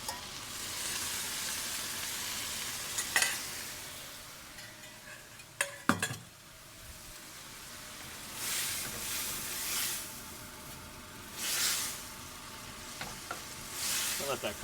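Sweet and sour sauce sizzles steadily in a pan with charred peppers for an air fryer sweet and sour chicken, with a few utensil clinks and stirring scrapes and swelling bursts of frying hiss, no talking.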